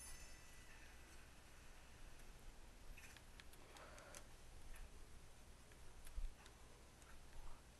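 A clock in the Lego Worlds video game ticks faintly and steadily in a quiet, even rhythm over low background hiss.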